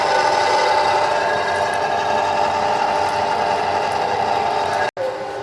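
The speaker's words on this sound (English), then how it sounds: "we are drilling the dowels that hold the engine and transmission together" Power drill boring out the dowels that join an engine and transmission, a steady loud continuous whir with a brief cut-out near the end, no talk.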